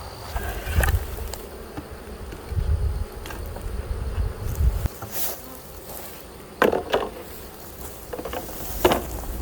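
Honey bees hum and buzz around an opened hive during a beekeeping inspection, a continuous buzzing with a few louder passes and some clunks of handling nearby.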